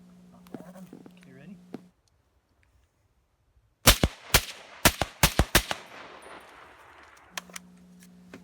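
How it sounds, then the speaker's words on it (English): Suppressed shots from a Desert Tech MDR rifle fitted with suppressors, a few sharp cracks followed by a quick rapid-fire string outdoors, with a humming tone before and after the firing. "So I started out by just shooting a few rounds through each suppressor and then trying a few rapid fire."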